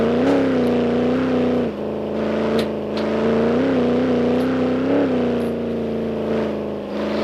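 Engine of an off-road mod vehicle in the BeamNG Drive video game, a loud steady droning growl whose pitch dips and rises with throttle, with no talking over it.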